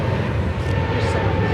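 Aeromexico airliner rolling on the runway at London Heathrow, a steady broad engine roar with low rumble held at even loudness throughout, fairly close and continuous.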